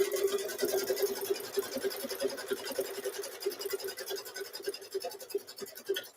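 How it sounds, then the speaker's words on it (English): A sewing machine stitches a sweatshirt in a fast, steady mechanical whir with a regular rapid pulse, heard close and continuous throughout. "Let me restitch this right quick where I just unstitched."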